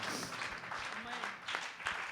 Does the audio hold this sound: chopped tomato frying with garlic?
no